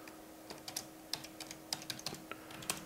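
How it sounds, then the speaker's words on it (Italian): Close, quiet keystrokes on a computer keyboard as a terminal command is entered, an uneven run of a dozen or so light taps over a faint steady hum. "dobbiamo digitare mkdir, che sta per make directory, e il nome della cartella"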